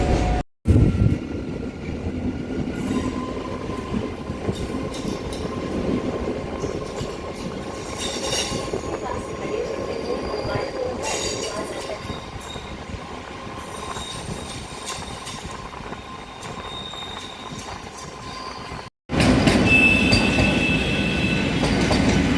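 A nearly empty local train rolls into Howrah Junction at night, carriages rumbling and clattering steadily with squealing wheels, loud and continuous throughout.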